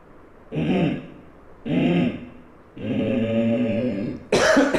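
A person coughs three times in a row, each a harsh, throaty burst lasting about a second, close to the listener, followed by a sharper noisy exhale.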